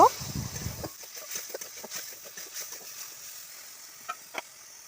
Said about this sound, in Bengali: তো দেখো এখানটায় আমি চিংড়ি মাছগুলোকে ভাজতেও দিয়ে দিয়েছি।